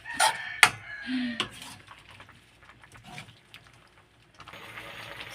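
Chop suey vegetables being stirred in a very full wok (kawali), giving sharp metal scrapes and clanks near the start, then softer scraping and rustling that fades under kitchen noise.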